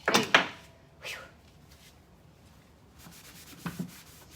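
Dark wax being rubbed by hand into the crevices of wooden furniture, a few short scuffing rubs at the start and again near the end, quiet and close, with stillness between.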